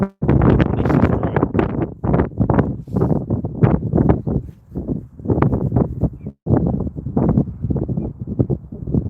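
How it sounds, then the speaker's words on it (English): Strong, gusty wind at Inverness Airport batters the microphone in loud, rumbling buffets that rise and fall continuously, close and harsh, with only brief lulls. "It's very, very windy here, in case you can't tell."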